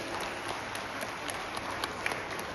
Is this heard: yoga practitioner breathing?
no